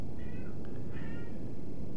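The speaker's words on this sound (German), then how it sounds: "Da meckert sogar meine Katze." A pet cat gives two short meows in quick succession, faint and somewhat distant over a low rumbling background hum.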